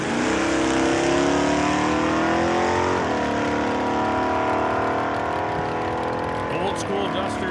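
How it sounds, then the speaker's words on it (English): An old school Duster drag car accelerates down the strip at Saskatchewan International Raceway, its engine a loud rising roar climbing through gear changes, with a brief shift break near the middle. "Old school Duster is getting away from the dart on this one."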